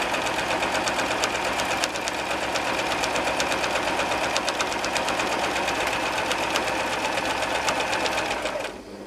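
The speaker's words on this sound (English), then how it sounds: "Just sew in a straight line, doesn't matter how far or how close" A sewing machine runs steadily while stitching a quilt, a fast even mechanical whir and tapping that holds without pause until it stops just before the end.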